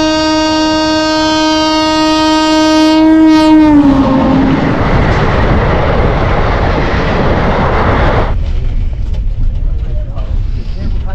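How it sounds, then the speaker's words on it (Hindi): The Anand Vihar–Raxaul Sadbhavna Express leaves Shahjahanpur Junction at night, sounding a loud, sustained horn for about four seconds before it gives way to the heavy, close rumble of the moving coaches. "शाहजहांपुर जंक्शन से अपनी ट्रेन निकल रही है"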